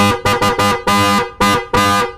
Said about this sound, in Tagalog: yung mga busina natin, testing natin